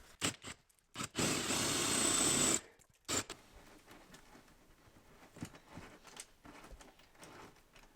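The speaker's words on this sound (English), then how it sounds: "we can go ahead and grab our drill with our 1/4-inch bit and our 3 bolts" A power drill with a 1/4-inch bit bores into the body of a Ford Transit van during a bed extension install, a loud steady whine of about one and a half seconds between short bursts, then quiet handling noises.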